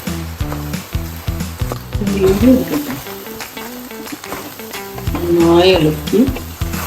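Rice stirred into a hot pan with squid for koonthal rice, making a steady frying sizzle with repeated scraping strokes that grow busier toward the end, under background music.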